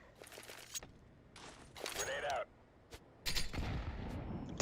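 A grenade bursts in the Counter-Strike map Vertigo, with sharp in-game blasts and crackling impacts arriving in separate loud bursts amid quieter gameplay noise.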